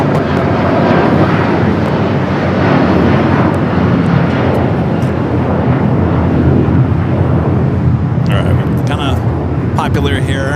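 A heavy airliner roars in for landing at LAX, its loud, sustained jet rumble filling the scene nearby, with voices talking over it and a few sharp clicks near the end.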